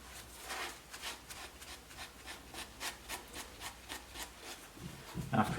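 Cloth wiped across a clone trooper shocktrooper helmet to take off weathering paint, a soft repeated rubbing in regular strokes, close and fairly quiet, ending with a brief clunk.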